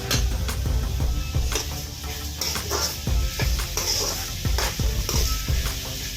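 Ridge gourd peel sautéed in a pan for thokku, with a continuous sizzle and a quick series of spatula scrapes and taps throughout.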